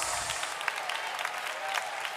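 Members of a church congregation clap together during a sermon, a continuous, even patter of many hands at moderate volume.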